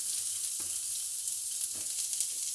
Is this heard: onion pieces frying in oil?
yes